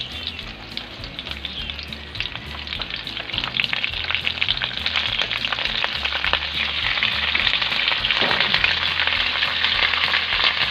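Milkfish (bangus) frying in a pan after garlic and onion, loud, continuous crackling sizzle with dense spitting pops that grows slightly stronger over time, with no talking.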